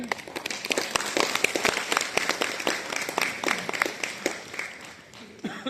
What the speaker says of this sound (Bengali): আমরা সবাই ভবিষ্যৎ এই ডাক্তারদেরকে হাততালি দিয়ে শুভেচ্ছা জানাই।